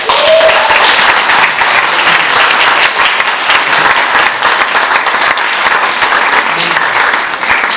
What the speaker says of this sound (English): let's give a massive round of applause for our very first speaker, Barbara.